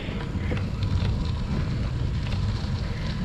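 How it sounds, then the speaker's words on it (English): Wind gusting across a bike trail in Pennsylvania on a stormy day, a steady rough rush buffeting the microphone with a continuous low rumble and no let-up. "The wind is kicking up every now and then"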